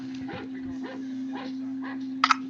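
A dog in a 1968 horror film, Night of the Living Dead, gives rhythmic soft whimpering yips over a constant electrical hum from an old soundtrack, ending in two sharper short barks.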